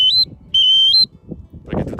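Two shrill, piercing notes from a ceramic whistle, each ending on a slight upward step, followed by a short burst of muffled noise.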